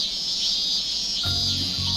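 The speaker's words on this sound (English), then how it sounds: "The cicadas nearing the end of their lifespan were chirping with the last of their strength." Cicadas chirp in a continuous high, shrill buzz that pulses slightly, steady and fairly loud, with a low rumble joining partway through.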